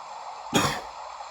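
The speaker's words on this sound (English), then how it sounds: "sorry, that was a cough" A single short, harsh cough bursts out once against steady background hiss, then fades quickly.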